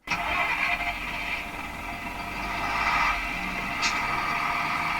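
Bachmann Windhoff MPV model train (Network Rail orange) with a sound decoder starting up, a steady mid-pitched diesel idle hum with a soft chirp partway through, fairly close and alone.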